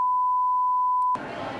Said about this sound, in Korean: 정말 쉽게 영상은 그대로 두고 삐 소리만 나게 만들어봤네요